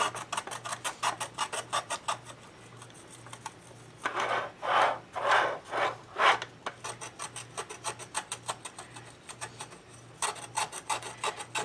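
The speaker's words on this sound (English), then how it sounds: "And I'm just using the straight edge of a letter opener, and it's very easy to get these letters off." A letter opener's straight edge scrapes raised letters off a DIY shadowbox surface in rapid, rhythmic rasping strokes, with a stretch of heavier, longer scrapes in the middle. Close and steady over a low background hum.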